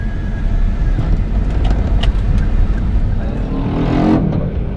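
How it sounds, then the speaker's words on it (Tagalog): Steady broadband road rumble from a busy city street with cars passing, a continuous low drone with occasional brief higher hiss and a swelling passing vehicle near the end, no talking. "Traffic."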